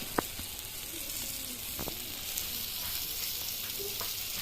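Pumpkin pieces fry in a pan with a steady, even sizzle and a couple of light scraping clicks as they are stirred.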